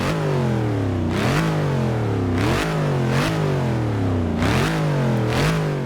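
A Dodge Charger Hellcat V8 revs repeatedly, loud and close, with several sharp climbs in pitch that fall back between each rev, a rhythmic series of roaring blips.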